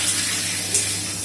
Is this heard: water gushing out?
yes